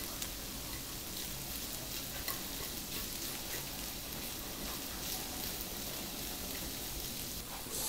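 Salt ponzu yakisoba ingredients are stir-fried in a pan, producing a steady, fairly quiet frying hiss with soft scraping and stirring throughout, rain-like and even.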